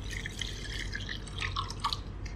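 Lukewarm milk poured from a cup into a bowl for a sweet snack batter, a soft continuous trickling and splashing stream, close and fairly quiet, with no talk.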